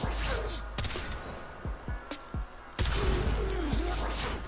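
Astilla shotgun fire in the Warframe game, a run of sharp booming impacts and explosions with a short quiet gap in the middle, loud and close over dense game noise.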